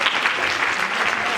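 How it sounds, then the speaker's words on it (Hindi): Applause from a church congregation during a Christmas 2023 welcome celebration, a dense steady wash of many hands clapping throughout, fairly loud and close with no talk over it. "आप तालियां बजा सकते हैं।"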